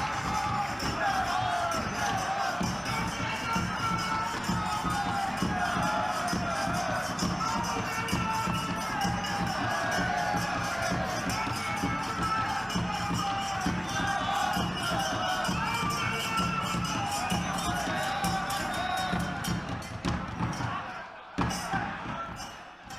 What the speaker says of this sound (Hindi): तालियां बजा करके उनका अभिवादन करें